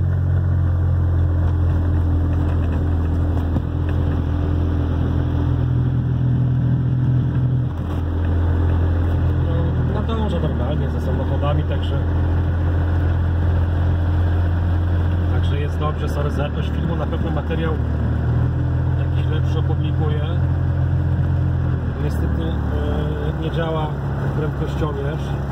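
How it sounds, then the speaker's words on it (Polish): Steady low engine drone from a Ligier X-too microcar fitted with a new engine, driving through city traffic; the hum stays constant throughout with faint voices over it. "Jest ten silnik, jak on się tak od razu zbiera"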